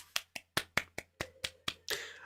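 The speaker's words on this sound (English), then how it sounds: "Let's give him a round of applause," Roughly nine sharp, separate claps in a quick irregular rhythm from a single person close to the microphone during a live online talk show, ending in a brief noisy burst.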